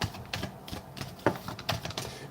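Tarot cards being shuffled: close, soft, irregular riffling taps and flicks with a few sharper clicks.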